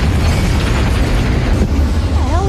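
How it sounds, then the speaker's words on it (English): A loud, sustained explosion roar rumbles throughout, dense and low, with debris crackling and a whistling tone rising near the end. "And one more explosion for the road."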